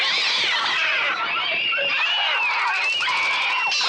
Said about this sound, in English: As they start to attack, the sounds of the birds are birds,